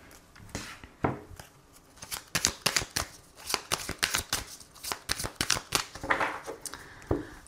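Tarot cards are riffled and cut in a quick, crisp run of flicking bursts, close and fairly loud, with slaps and brief pauses between shuffles and no talking.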